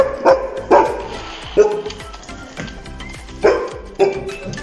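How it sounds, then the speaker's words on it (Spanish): Several dogs bark in the background in short bursts, clear repeated woofs spread across the moment, with a faint voice murmuring underneath. "Ay, empezaron a ladrar. Perdonen el sonido que está al fondo."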